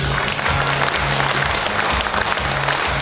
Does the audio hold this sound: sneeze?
no